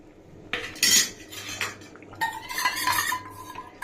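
A metal spoon stirs khichuri with a fried spice mix in a pot, giving close, bright scraping and clinking strokes in bursts with no talk.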